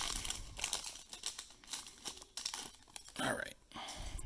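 Busy crinkling and tearing of foil wrappers as packs of 2019-20 Panini Optic basketball cards are ripped open from blaster boxes, close and continuous with crunchy rustles, with a voice murmuring underneath.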